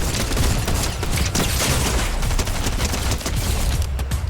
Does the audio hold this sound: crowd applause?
no